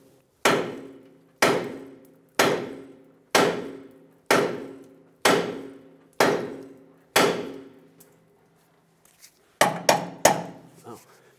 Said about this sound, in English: Tap the control arm right here.